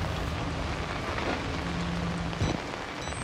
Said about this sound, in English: It looks a little rainy. Haha, I lied. It's a lot rainy.